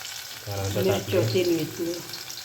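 Hot tempering oil sizzles and crackles sharply as chopped onion hits the pan, with a few stirring scrapes, close and fairly loud.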